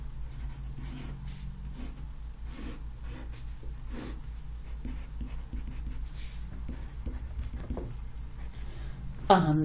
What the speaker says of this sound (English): Let's draw a rectangle with those dimensions.